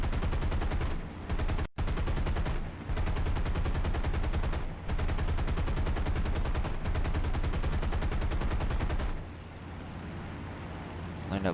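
Aircraft machine guns in War Thunder strafing a ground target, a dense, loud, continuous roar of automatic fire with a few brief gaps that eases into quieter engine drone near the end.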